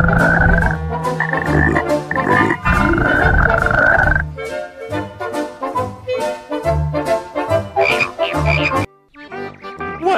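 Cartoon frogs croak loudly and repeatedly in a rhythmic, chorus-like series of deep, throaty calls, close and continuous over several seconds with a brief pause near the end.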